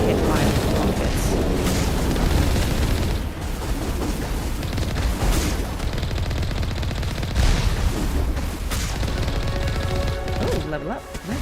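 Rocket troops and gunfire in a sci-fi combat firefight in Mass Effect, with dense continuous blasts, booms and shots running throughout, loud and busy, with voices mixed in.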